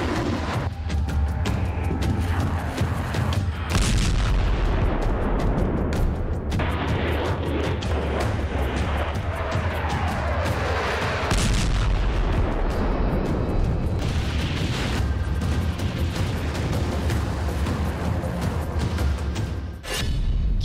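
Heavy explosions and artillery fire strike the TV centre in Kherson during the Russia-Ukraine war, a loud continuous roar of blasts and rumbling impacts with sharp bursts, recorded as news footage with no talk.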